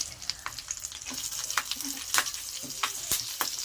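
A spoonful of black cumin seeds with dried and fresh chillies frying in hot oil makes quiet, scattered crackling pops and spits over a soft sizzle.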